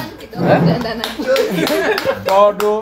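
Scattered claps ring out amid lively voices and chuckling, a few sharp hand strikes spread unevenly under the talk rather than sustained applause.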